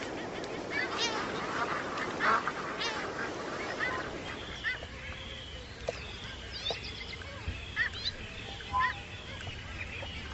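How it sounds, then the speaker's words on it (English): Seabirds flocking on Alaska's coast: a noisy colony of honking, quacking calls, dense and close at first, then thinning to scattered individual calls over a quieter background. "As many as 140 million seabirds flock to Alaska's coast for the summer."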